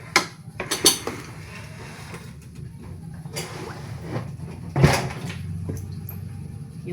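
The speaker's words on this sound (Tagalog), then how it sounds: "Maghugas ako guys ng hugasin." Dishes being washed by hand with water scarce, pots and cutlery clinking in scattered bursts over a low steady background rumble, no talking.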